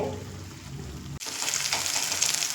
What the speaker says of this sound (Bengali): এই আলু দিয়ে দু থেকে তিন মিনিট মতো চিকেনের সঙ্গে আমি কষিয়ে নেব